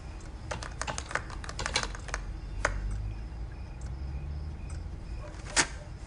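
Keys clatter on a computer keyboard inside a horror video game, a quick burst of taps followed by a few scattered single presses over a steady low background hum.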